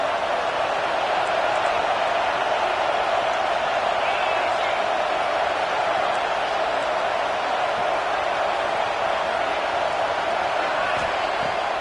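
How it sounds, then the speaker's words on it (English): A loud home crowd roars continuously through a football game, a dense steady wall of stadium noise that holds at full level from start to finish. "how nice is it to have the home crowd going absolutely bananas?"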